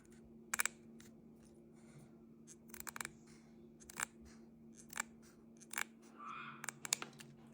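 Scissors snip through needlepoint canvas between the thread intersections, several sharp, quiet crisp cuts in uneven clusters, close up in an otherwise hushed room.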